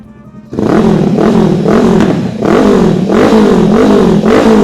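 A 2016 Honda CBR500R ABS twin-cylinder motorcycle engine revs repeatedly up and down in a steady rhythm, loud and close, with a deep, smooth exhaust note and no voices.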